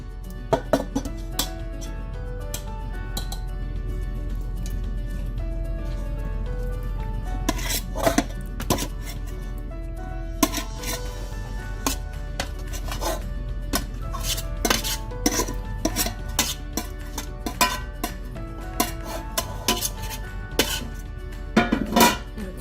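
Cooked mostaccioli pasta being stirred into a cheese sauce in a metal pot, with repeated close clinks and scrapes of a utensil against the pot over a low background hum; nobody speaks.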